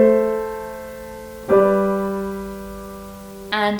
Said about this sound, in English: We have our imperfect cadence